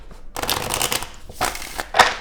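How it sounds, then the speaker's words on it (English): Tarot cards being shuffled by hand: close, crisp riffling bursts in two or three quick runs with short pauses between them, heard with no speech. "Let's do one more shuffle here."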